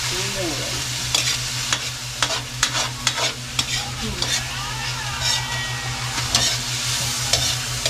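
Vegetables for pancit bato sizzle steadily as they are sautéed in a pan, with repeated scraping and clacking of a spatula over the constant frying hiss. An engine hums low in the background.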